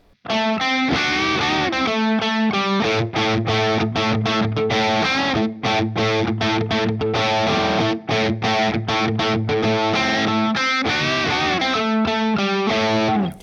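A heavily distorted electric guitar plays the intro riff of a song continuously and loudly, with choppy rhythmic chords and sustained notes, with no voices.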